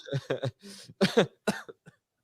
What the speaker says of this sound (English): still can't get rid of that cough